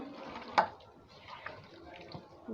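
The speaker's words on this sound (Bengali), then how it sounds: "শুধু হাতটা যে ধুবো সেই পানিটুকুই আমি এখানে দিব" Water left from rinsing hands is poured into raw beef coated with white oil for a Friday beef curry, giving one brief splash near the start and then quiet wet handling sounds.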